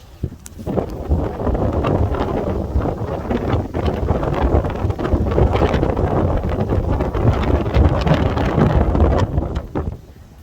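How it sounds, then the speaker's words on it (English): Wind blows steadily outdoors, a dense rushing roar buffeting the microphone for about ten seconds without a pause. "That wind."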